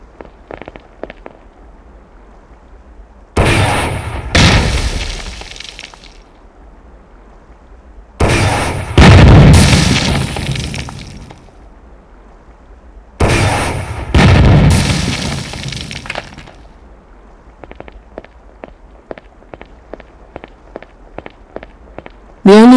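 A rocket launcher fires in a military training game set at Fort Bragg, three heavy blasts each trailing off into rumbling explosion, separated by quiet gaps with clicking and footstep-like taps, ending in rapid tapping.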